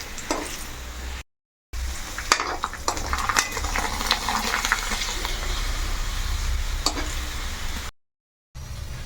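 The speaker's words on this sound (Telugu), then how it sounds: "వడియాలు వేయిస్తున్నారు" Tube-shaped vadiyalu, sun-dried lentil fritters, fry in hot oil with a continuous dense sizzle and occasional stirring clicks, broken by two brief silent gaps.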